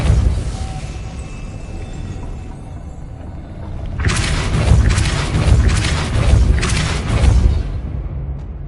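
A Depulso spell cast in the PlayStation 5 game Hogwarts Legacy, a quiet hum giving way to a burst of booming, crashing rumble with several rolling surges that then fade.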